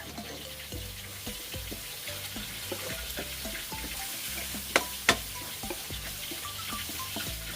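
Chili stir-frying in hot oil in a wok: a steady, close sizzle with repeated scraping and tossing strokes in an irregular rhythm, plus two sharp clanks near the end.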